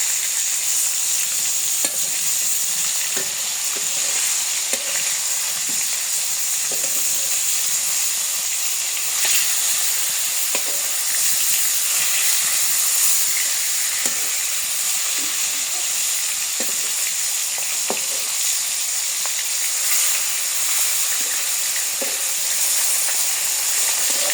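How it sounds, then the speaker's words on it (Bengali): Fish fries in hot oil in a pan, giving a loud, continuous close sizzle and hiss with scattered small crackles throughout, no voices. "মাছ ভাজা হয়ে গেছে, এখানে নামিয়ে নিই।"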